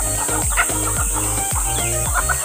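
A chicken on a rural mountain farm in the Philippine countryside clucks in a quick series of short, throaty calls, close and fairly loud over steady background noise.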